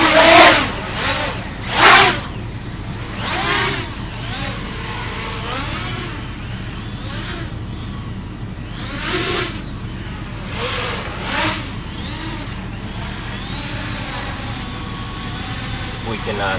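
A heavy homemade FPV drone with exhaust fans flies fast, giving a steady high whine with whooshing surges of noise as it passes, while people talk over it.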